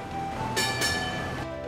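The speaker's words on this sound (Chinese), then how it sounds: "在全世界唯一运行了100多年的双层电车" A Hong Kong double-decker tram, the century-old Ding Ding tram, rumbles steadily along its rails with a sustained, tonal hum and two brief brighter bursts midway, heard close and continuous without talk.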